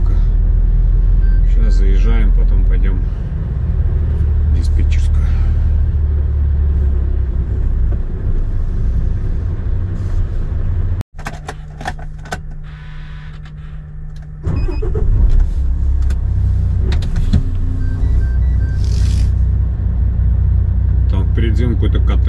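Car rolling slowly into a parking lot at a warehouse, a loud close engine rumble from inside the cabin with a brief shift in tone midway, while people talk over it.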